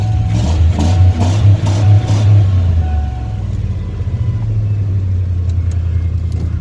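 A Ford F150 pickup engine runs with a deep, steady rumble close by, its note dropping slightly after a brief higher-revving stretch, with no talk over it.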